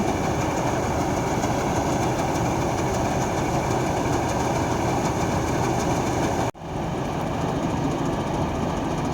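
A motorcycle engine rides along a narrow dike through a rice field during harvest, a loud steady drone close by that cuts off abruptly near the end and resumes at a lower level.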